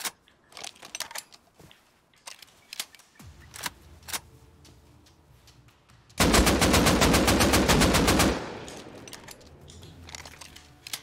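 Automatic gunfire in the console edition of the survival game Rust: scattered single shots and short bursts, then a loud sustained rapid burst lasting about two seconds, followed by quieter intermittent shots.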